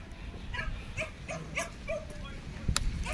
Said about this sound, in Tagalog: May kasama silang aso.